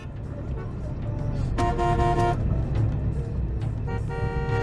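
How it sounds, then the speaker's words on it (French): A car horn honks in short bursts in a crowded street scene, mixed with engine and traffic noise and excited voices nearby. "Ça sert à rien de klaxonner, j'essaie de sortir là."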